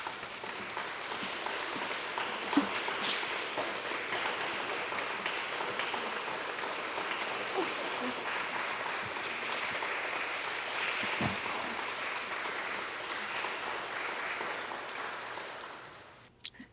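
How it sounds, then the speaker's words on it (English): Applause welcoming donors at a stained glass dedication ceremony, a long even round of clapping from a gathered audience, moderately distant, that fades out near the end. "please give a round of applause to Betty Urazowicz and Piotr Uzarowicz"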